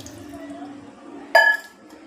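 Water splashes briefly into a cooking pot for instant noodles in a home kitchen, a short close burst of pouring against metal after a quiet stretch of faint room noise.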